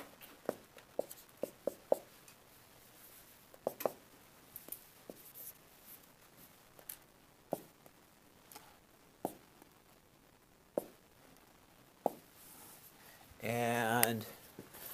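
Marker drawing on a classroom board, a series of scattered short taps and strokes, fairly close and quiet, followed by a brief voice near the end.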